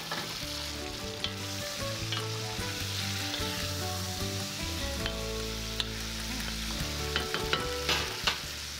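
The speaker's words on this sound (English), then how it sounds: "we throw in the meat right again with all its juices" Beef with its juices sizzles and fries loudly in a pan with rendered fat and cooked garlic for a goulash, a steady close hiss with occasional clinks and stirring scrapes throughout.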